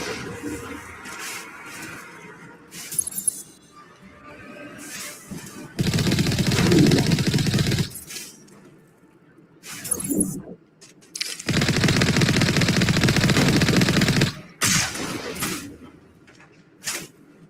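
Mass Effect gunfire erupts in long sustained bursts of rapid automatic shots, loud and dense, separated by quieter stretches of ambient game sound and a few scattered single shots.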